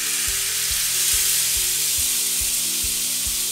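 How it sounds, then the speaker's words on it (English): Two cans of undrained diced tomatoes added to a hot pan with garlic, giving a continuous hissing sizzle with regular low knocks of stirring roughly every half second, close by and with no talking. "Now I have 2 cans of diced tomatoes undrained that I'm going to add to the pan."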